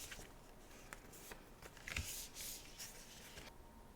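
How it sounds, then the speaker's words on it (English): A pre-cut cardstock card base is folded in half and scored, giving faint, close papery rustles and scrapes with one sharper crease sound in the middle, set in a quiet room. "take the Mint Macaron card base and fold it in half and score it"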